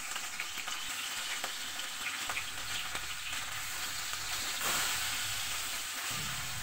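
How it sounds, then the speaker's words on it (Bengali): Pieces of rohu fish sizzle and crackle in hot oil in a flat pan, a steady, fairly quiet frying hiss that briefly surges louder near the end, with no talking. "তেলটা গরম হয়ে গেলে আমি মাছগুলো দিয়ে দিচ্ছি।"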